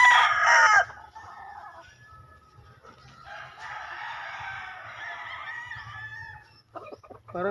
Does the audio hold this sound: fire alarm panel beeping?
no